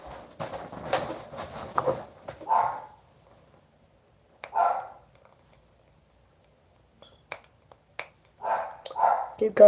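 Dogs barking indoors in short bursts of several barks separated by quiet gaps, fairly close and loud.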